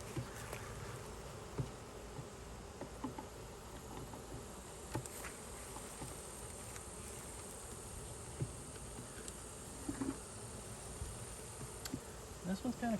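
Honey bees buzzing around an open hive in decline, a steady faint drone of many insects with occasional closer buzzes passing by, and a voice now and then faintly in the background.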